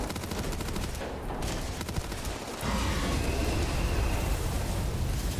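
Rapid automatic gunfire rattles in the video game Starfield, with dense, continuous bursts that briefly pause and then resume louder, heard alone without talk.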